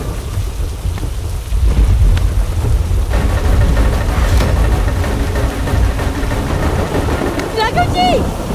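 A thunderstorm with heavy rain pours steadily and loudly throughout, with low thunder rumbling underneath and the downpour growing denser partway through.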